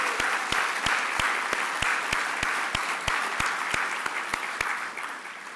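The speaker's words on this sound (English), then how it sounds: "Please give these people a round of applause." An audience at a community foundation anniversary celebration applauds steadily, a wash of many hands clapping with one sharp, close clapper keeping an even beat, fading slightly at the end.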